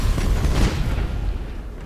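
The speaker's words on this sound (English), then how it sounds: "That was some explosion down there." A ship explosion in the space battle video game BattleFleet Gothic booms loudly with a deep low-end burst that rumbles and slowly fades.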